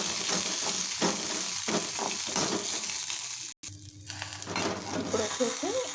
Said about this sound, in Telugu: నూనె వేసాను కదా కొంచెం చిన్నలో పెట్టుకొని వేయించుకోవాలి